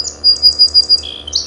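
A male song sparrow sings a short, loud, close phrase of rapid bright chirps and trills, heard alone without any talking.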